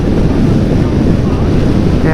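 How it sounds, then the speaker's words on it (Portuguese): Loud, steady wind roar buffeting the microphone while riding a motorcycle at 130 km/h along Ruta 40 in Patagonia, a continuous dense rush with no pauses. "E o barulho do vento tá ensurdecedor, tá bem alto, muito alto."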